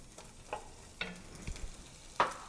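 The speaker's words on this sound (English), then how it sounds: "So we add just a little bit more olive oil to our pan. Then we're going to add our chopped onions" Chopped onions dropped into a pan of hot olive oil for chicken tortilla soup, giving a soft, quiet sizzle broken by a few brief scraping and stirring knocks, with no talking.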